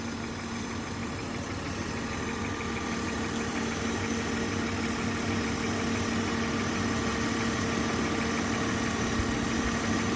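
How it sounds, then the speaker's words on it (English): Cooling fan whirring on an idling 1999 BMW 528i Touring with a manual gearbox, a steady even drone blended with the engine's low idle hum, constant and unbroken for the whole stretch. "There's that fan again, that's coming on."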